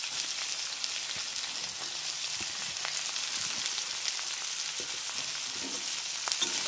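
Chopped onions frying with cardamom in a pan for mutton keema, giving a dense, continuous close-up sizzle with occasional stirring.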